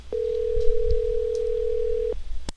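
A telephone dial tone after a call disconnects, a single steady loud tone lasting about two seconds, preceded and followed by brief clicks, with faint muffled sounds underneath.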